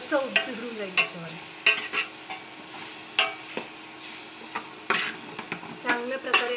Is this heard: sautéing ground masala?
yes